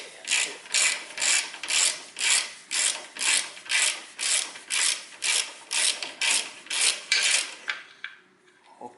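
A ratchet wrench loosening a bolt during a front-wheel-drive car clutch replacement, clicking in about fifteen steady, evenly spaced bursts, close and clear, with no one talking, before stopping near the end.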